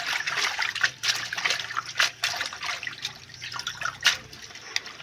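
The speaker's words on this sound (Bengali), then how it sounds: "এখন আমি ধুয়ে নেব শাপলাগুলো।" Water runs and splashes as water lily stems are washed for cooking, a close trickling stream broken by irregular splashes and drips, with no voices.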